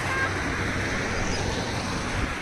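Sea waves wash along the Key West shore in Florida, giving a steady, broad surf rush close to the microphone with a touch of wind and no voices.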